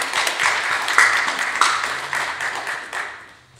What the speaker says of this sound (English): I think you all deserve a big round of applause.